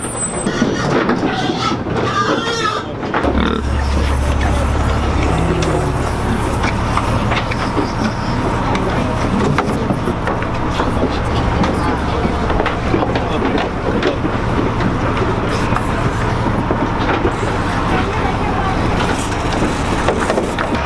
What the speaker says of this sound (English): Here comes the, I don't know, 100th truck of the day.